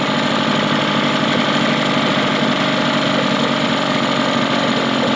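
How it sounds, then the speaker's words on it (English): A steady, droning Mercury 15 hp outboard motor idles continuously in gear at close range, with a constant mechanical hum and no voices. "So you hear the engine slow down,"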